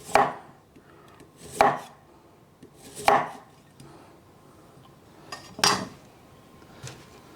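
A knife slices carrots into flower shapes on a chopping board for a takeaway-style chicken chow mein, giving about five distinct crisp chops spaced a second or so apart, close and clear, with no talking.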